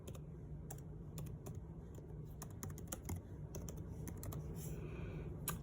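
Rapid keystrokes on a computer keyboard as a search term is typed, a steady run of light, close clicks with no voices, fairly quiet overall.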